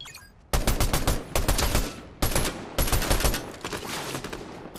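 Rapid bursts of automatic gunfire in a video game, loud and close, arriving in several dense volleys separated by brief pauses.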